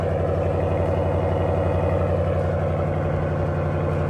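A RAM 1500 pickup truck with a 3-liter twin-turbo Hurricane engine idles steadily nearby, a deep rumbling drone with a regular low pulse that holds constant throughout.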